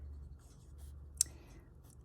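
A Lamy fountain pen writes with Lamy Violet ink, making soft, faint nib scratches on paper with one sharp tap partway through.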